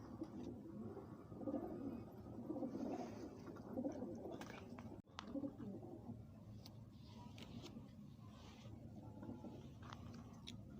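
A pigeon with an eye infection coos in soft, repeated throaty gurgles close by, over a low background rumble, with a short dropout midway.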